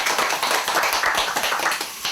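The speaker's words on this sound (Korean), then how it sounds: "자, 박수 한번 주세요" An audience applauds at an award ceremony in a group home, a dense, even patter of many clapping hands, loud and continuous for the whole stretch.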